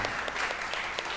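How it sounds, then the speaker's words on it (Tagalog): A church congregation claps together for Jesus during a Mother's Day worship service, a dense, steady patter of many hands filling the room at moderate volume. "Palakpakan po natin si Jesus."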